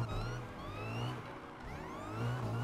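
A supercharged car engine in NFS Unbound revs up and down in waves, its whining harmonics rising and falling steadily at moderate, fairly quiet level with no talk.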